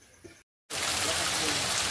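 Heavy monsoon rain falls in a dense, even hiss after a brief moment of silence, with faint sounds just before.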